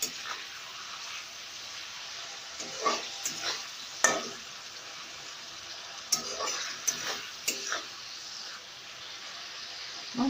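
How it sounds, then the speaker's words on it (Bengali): Shrimp frying lightly in a pan makes a soft continuous sizzle, broken by several sharp scraping stirs and utensil clicks at irregular intervals. "লাইট করে একদম ভেজে নেবো চিংড়ি মাছটাকে।"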